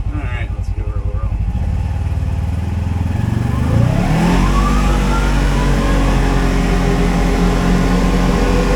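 Engine of a Kubota RTV-XG850 Sidekick utility vehicle turning over and revving up, rising from a rough idle to a loud, steady drone that holds close and strong; a voice speaks briefly at the start.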